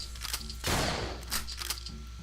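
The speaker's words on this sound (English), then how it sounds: "So every time I fire it, just like a real shotgun, I have to hit down to pump it back and up to bring in the new shell." A video game shotgun fires one loud, booming blast, with sharp mechanical clicks of the pump action before and after it.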